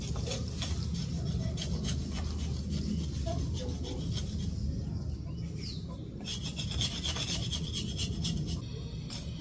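Bark being scraped off a lemon tree branch for air layering, a steady close rasping and rubbing that runs continuously, with faint birdsong in the background.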